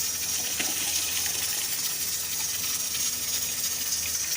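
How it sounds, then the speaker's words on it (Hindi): Rice being washed in water while making beef keema pulao, a steady close rush of splashing, running water that fills the whole moment without talk. "अब मैं चावलों को वॉश करूँगी।"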